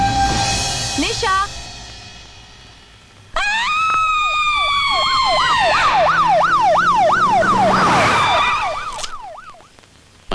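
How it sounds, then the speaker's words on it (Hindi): A wailing ambulance siren arrives at the scene, loud and close, sweeping rapidly up and down over several seconds after a few shorter whoops, with faint voices underneath. "सर नीचे एम्बुलेंस आ गई है।"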